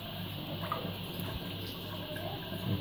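Tap water runs steadily as a kitten's face is washed, a soft continuous splash and hiss close by with no voices.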